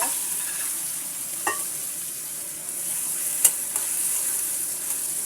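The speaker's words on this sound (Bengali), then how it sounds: "মশলাটা যাতে পুড়ে না যায় সেজন্য একটুখানি পানি দেব" A splash of water hitting chili powder and spices frying in oil in a pan, giving a steady soft sizzle with a few sharp clinks of stirring.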